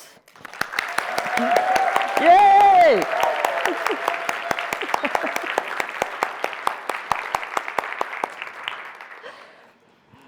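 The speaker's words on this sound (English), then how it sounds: "So now, for the applause." Conference audience at a learning event claps in a sustained, crisp round of applause, with a voice cheering briefly early on before the clapping tapers off.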